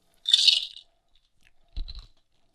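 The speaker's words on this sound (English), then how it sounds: "didn't want you guys to have to hear me crunch all the ice" Ice crunched in the mouth gives one sharp, crackly bite, then a pause and a second, softer crunching chew with a low thump, close and isolated in otherwise quiet surroundings.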